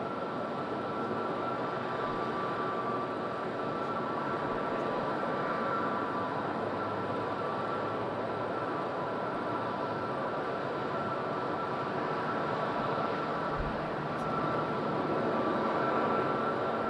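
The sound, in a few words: Wizz Air airliner approaching Madeira Island Airport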